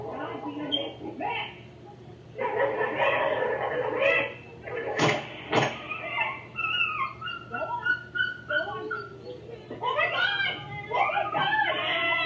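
A dog yipping and whimpering in a replayed video of a police officer shooting a dog in a yard, high-pitched cries and barks scattered through the clip, mixed with voices and background noise.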